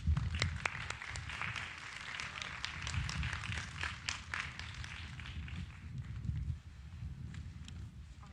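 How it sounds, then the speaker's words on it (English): Audience applause for graduate speakers at the Champaign Central graduation ceremony, a dense, steady clapping from a large crowd that carries on for several seconds and thins slightly near the end. "Give them a round of applause, please."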